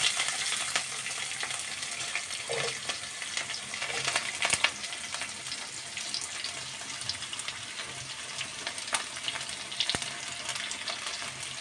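Onions frying in a pan for a chicken parts curry, a soft steady sizzle with scattered crackles and a few clicks of utensils.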